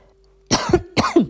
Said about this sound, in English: I'm coughing. It really affected my asthma.